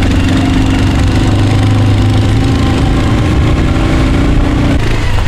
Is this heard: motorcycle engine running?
yes